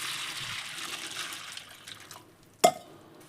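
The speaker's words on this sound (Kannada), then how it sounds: "ಸ್ವಲ್ಪ ನೀರು ಹಾಕೋತೇವೆ ನೋಡ್ರಿ." Water poured over puffed rice in a bowl for soaking: a soft running trickle that fades, followed by a sharp splash or clink near the end.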